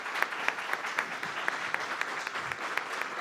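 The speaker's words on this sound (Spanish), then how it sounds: "la profesora Illanes recibe la medalla con el aplauso del público presente que ha llenado el auditorio" An audience claps steadily and evenly, a full university auditorium filling the space with continuous applause during a medal presentation.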